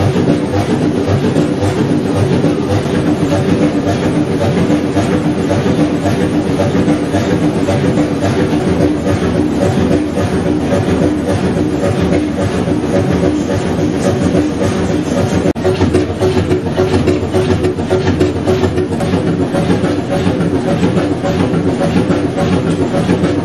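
A large old Fairbanks Morse engine runs steadily, a loud, dense mechanical roar with continuous low rumble and pulsing, heard close and without talk.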